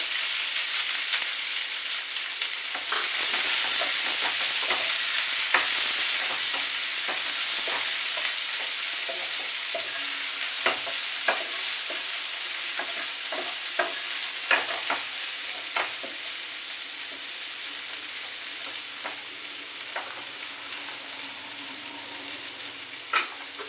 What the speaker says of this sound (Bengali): আস্তে ভাজি ভাজা করে নেবো